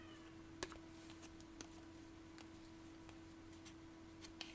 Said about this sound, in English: My cat's going crazy out there.